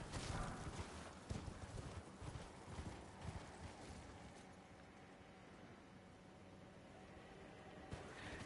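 Spectral horse galloping in the video game Elden Ring: rapid, rhythmic hoofbeats clip-clopping up close, loudest at the start and then settling into a steadier, softer trot over a rushing background.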